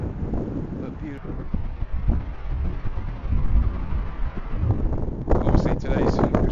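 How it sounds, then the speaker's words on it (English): Cold, gusty wind buffets the microphone outdoors as a broad, steady roar that rises and falls, louder toward the end, with a brief faint voice. "Quite windy, wind's cold,"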